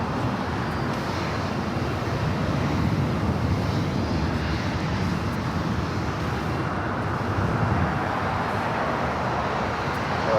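An Air France airliner touching down on the south runway at LAX, a steady broad engine roar at moderate distance, continuous and unbroken with no talk.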